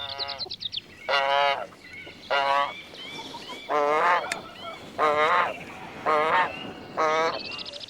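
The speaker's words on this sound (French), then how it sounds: "L'oie de Guinée, dont l'élégance évoque le cygne, est la descendante des oies sauvages d'Afrique" A domestic Guinea goose in a farmyard gives a series of about seven loud, nasal honks in bursts, close by, with short quiet gaps between calls.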